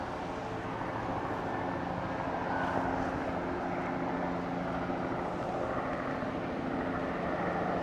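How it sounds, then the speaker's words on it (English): Steady rotor and engine roar of a helicopter circling over Glenelg Beach, South Australia, continuous and fairly distant, with a broad whooshing drone throughout and no voices. "So that's a helicopter there going around."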